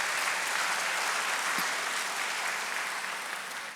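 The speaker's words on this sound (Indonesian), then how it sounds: "Tuan rumah tolong berikan tepukan untuk mereka yang hadir pada malam hari ini." A church congregation applauds guests at a Malay-language Ash Wednesday evening service, with dense, steady clapping filling the room that slowly fades toward the end.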